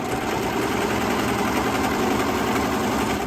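A serger sewing machine runs continuously as it stitches jean seams together, giving a loud, close, steady mechanical whir with a fast rattling pulse and no pauses.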